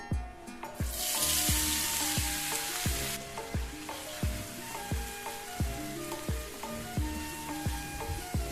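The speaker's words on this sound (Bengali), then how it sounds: "মিডিয়াম আঁচে রেখে আমি পেঁয়াজগুলোকে ভেজে নেব" Bursts of sizzling from chopped onions frying in hot oil over medium heat, loudest early on, mixed with rhythmic background music that carries through the whole clip.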